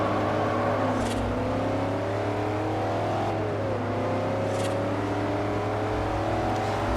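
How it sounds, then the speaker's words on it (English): A car engine in Forza Horizon bounces off the rev limiter, a loud, sustained buzzing drone with pitch rising and dipping slightly and brief sharp bursts at regular intervals. "Whack it off the rev limiter"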